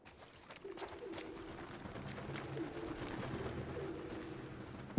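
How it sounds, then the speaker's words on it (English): Pigeons coo in a low, repeating murmur inside the video game The Last of Us Part 2, steady over a busy ambient background with no talking. "Birds."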